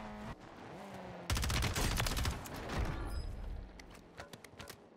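Rapid automatic fire from the C-Hub weapon in a video game, a dense loud burst of shots lasting a few seconds before tapering into scattered cracks.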